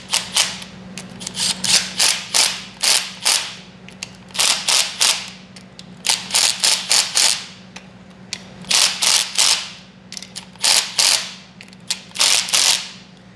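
A hand ratchet clicks in quick bursts while tightening 10 millimeter bolts on the timing cover of a 392 HEMI engine. It sounds close and crisp, with repeated groups of sharp rat-a-tat clicks and brief pauses between them.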